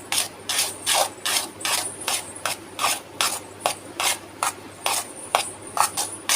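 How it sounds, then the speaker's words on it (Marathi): Gulab jamun mixture with baking powder and orange food colouring is stirred and worked by hand in a bowl, giving close, rhythmic scraping strokes that repeat steadily about twice a second with no speech. "आता हे सर्व साहित्य आपण असं मिक्स करून घेऊयात"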